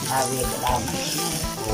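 Hot oil sizzles and crackles steadily in a pan, close and fairly loud, with faint low knocks underneath.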